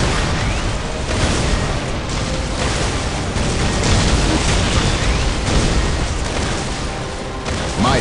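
Whirlwind artillery tank missile barrage in the Warhammer 40,000: Dawn of War strategy game, a dense, continuous roar of booming impacts and bursts filling the whole stretch at steady loudness.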